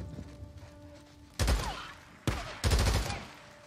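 Gunfire in the video game Days Gone: three loud bursts of shots, each a sharp onset with a ringing tail, spaced about a second apart over a quieter ambient game background.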